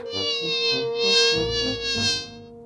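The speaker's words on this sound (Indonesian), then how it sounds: "Dari mana lalat ini? Kita harus menangkapnya." A fly buzzing nearby with a steady, tonal drone that swells and fades slightly as it moves around, alone and fairly loud.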